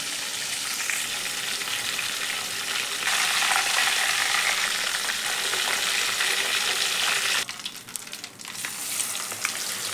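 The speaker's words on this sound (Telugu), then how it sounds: "ఆయిల్లో వేడి ఆయిల్లో ఈ పీస్ వేసేసాను. చూడండి వీడియోలో చూపిస్తున్నట్టు ఆ ముక్క అట్లా వేగాలి" A piece of fish fries in hot oil previously used for chicken, giving a dense, loud, continuous crackling sizzle up close that swells midway and then drops in intensity near the end.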